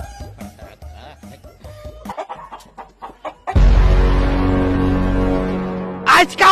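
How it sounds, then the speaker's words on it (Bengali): Chickens in a village yard cluck in short, close, irregular bursts, then a long, loud, harsh call takes over for a few seconds before a couple of brief squawks. "আজকাও ভিটাত মুরগি ঢুকিয়া"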